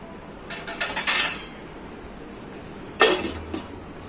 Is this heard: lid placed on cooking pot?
yes